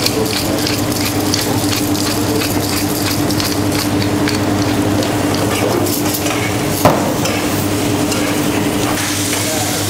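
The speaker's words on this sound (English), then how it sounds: "I'm basically going to give this all a nice mix to combine the bread with the orange zest, the garlic" Bread being stirred and mixed with orange zest, garlic, white wine and black pepper for a kudu and duck terrine, a continuous close scraping and squelching over a steady background hum.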